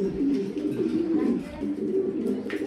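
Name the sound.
pigeons cooing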